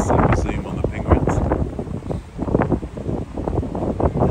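Wind blows at a zoo penguin enclosure, a gusty buffeting rush against the microphone that rises and falls throughout, with voices talking underneath.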